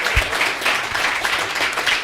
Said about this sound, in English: let's give these guys a big round of applause for participating today